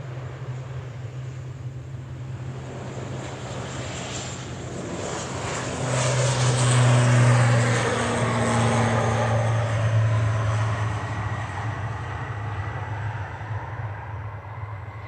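A Swift Air propeller aircraft, registration EC-KKQ and formerly operated for the United Nations, departs from Manchester Airport for Guernsey. Its engines drone steadily and loudly, swelling toward the middle and then easing while it continues without speech.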